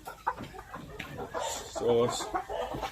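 Heavy Japanese Shamo chicken, a bird of four to five kilos, giving low clucks and throaty calls close by, mixed with someone talking over it.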